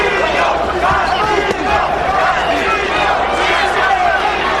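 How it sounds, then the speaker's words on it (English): A large boxing arena crowd chants Castillo in a loud, sustained roar, voices blending into a continuous rhythmic din with no clear pauses. "the chant Castillo, Castillo is a bit half-hearted down the stretch of the 11th"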